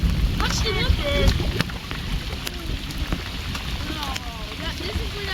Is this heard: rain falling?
yes